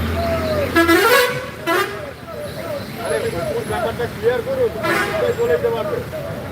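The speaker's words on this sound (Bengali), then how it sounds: "রাস্তায় সাধারণ মানুষের সংখ্যা বাসগুলো পুরো ফাঁকা যাচ্ছে" Buses and other traffic pass along a town street in light rain, engine rumble with a couple of horn toots and wet road hiss under steady talk throughout.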